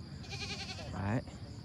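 A young goat at a large livestock market gives one close, loud bleat near the end, with a nasal wavering tone, over market chatter and a person talking.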